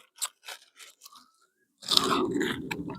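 Someone chews grilled pork ribs in a forest garden, with a few soft bites and crunches before a loud, close burst of crunchy chewing.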